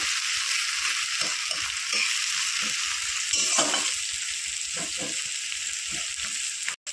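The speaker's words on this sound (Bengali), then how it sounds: "পেঁয়াজ কুচিটা দিয়ে হালকা আগে আমি পেঁয়াজটা ভেজে নেব" Chopped onion frying in hot oil in a pan, a loud steady sizzle with a rhythmic scraping of a spatula stirring, close up, then a sudden stop at the end.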